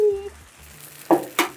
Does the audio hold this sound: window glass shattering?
no